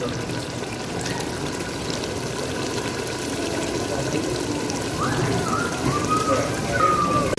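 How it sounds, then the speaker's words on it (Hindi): Goat meat for aloo gosht sizzles and crackles steadily in a hot pot, a dense frying hiss that grows slightly louder, with a faint voice briefly in the background. "गोश्त हमारा अच्छी तरह भून रहा है।"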